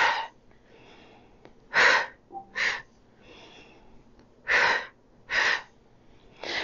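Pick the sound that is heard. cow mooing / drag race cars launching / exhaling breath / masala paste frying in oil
exhaling breath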